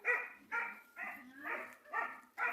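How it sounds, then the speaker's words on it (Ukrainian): A dog barks repeatedly in a garden, six loud, harmonic barks in a steady rhythm about half a second apart, close by and with no talk over them. "собака розгавкалась так"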